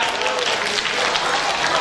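An audience at a staged show gives steady, dense applause for the performers, loud and continuous throughout the brief moment.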